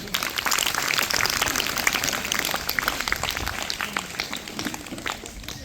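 An audience claps steadily at the opening of a cluster-level Pratibha Karanji school talent program, a dense, sustained round of applause from many hands lasting the whole stretch.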